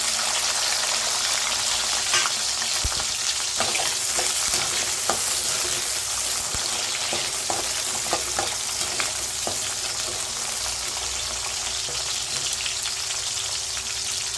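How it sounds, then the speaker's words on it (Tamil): Ten to fifteen small peeled garlic cloves fry in oil for a Tamil okra kara kuzhambu, a loud, constant crackling sizzle with scattered sharp pops and occasional spoon scrapes, with no voices. "பூண்டு நல்லா வதங்கட்டும்"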